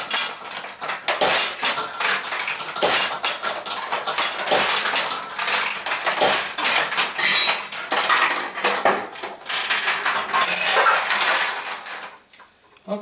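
A Nishijin pachinko machine launches steel balls and pays them out into a tray, making a continuous metallic rattle and clatter of balls striking pins and metal, loud and close, with no talking.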